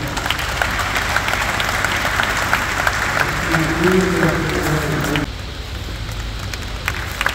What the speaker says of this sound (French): on les encouragera avec nos applaudissements